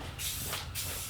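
Two short bursts of aerosol spray paint hiss close up while painting a truck cap, each a quick forceful spritz with a brief pause between.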